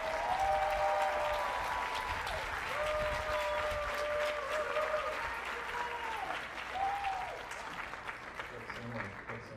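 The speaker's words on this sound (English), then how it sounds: "Give them a round of applause." A crowd applauds a school marching band and color guard outdoors, soft scattered clapping and cheering heard from a distance, while tonal whistles or calls rise above it and voices murmur underneath.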